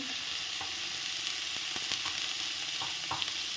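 Paneer pieces fry in hot oil with salt and turmeric, giving a steady close-up sizzle with occasional stirring clicks and small pops, and no talking.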